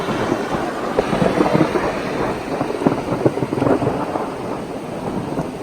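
Heavy rain pours down steadily, with deep rumbling thunder rolling beneath it, loud and close throughout.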